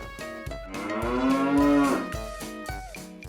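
A Hanwoo cow lets out a long, loud moo while cattle are loaded onto a truck, amid rhythmic knocking and clattering, with no voices.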